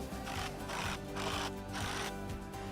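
Cordless impact driver running on dock hardware, a loud buzzing, rattling hammer with a pulsing rhythm that swells and dips roughly every half second, heard close and alone.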